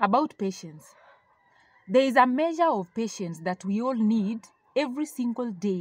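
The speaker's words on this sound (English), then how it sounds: "And a lot of chicken noise" Chickens cluck and a rooster crows in the background of a home setting, faint beneath a person speaking steadily and heard most clearly during a brief pause.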